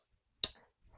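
One crisp, close snip as a plastic Pokemon Sprigatito model kit part is cut from its sprue, sharp and isolated in near silence.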